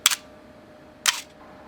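Camera shutter set to a one-second exposure fires: a sharp mechanical click opens it, a second of quiet follows, then a second crisp click closes it, close and clear with no talk.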